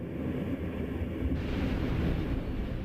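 A hollow thud from a time-compressed infrasound recording of a space shuttle breakup, heard as a dull low boom that swells into a sustained rumbling wash with no talking.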